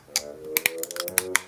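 Plastic wrapping being cut off a Motorola StarTAC flip phone battery, a series of sharp close snips and clicks spaced irregularly, crisp and fairly quiet with no voices.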